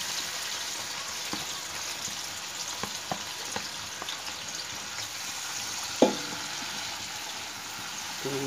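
Sliced onions fry in a hot pan, giving a steady broadband sizzle with a few soft clicks and one sharp tap of a utensil against the pan, close and continuous with no talk.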